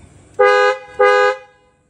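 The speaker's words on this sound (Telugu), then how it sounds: "అదేంటంటే మర్సిడీస్ బెంజ్ హార్న్." Two loud, clear Mercedes-Benz horn honks fitted to a 2016 Volkswagen Vento TDI, each about a third of a second long, sounding close with a brief pause between them.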